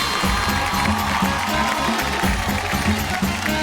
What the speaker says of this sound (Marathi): क्या बात एकदा जोरदार टाळ्या झाल्या पाहिजे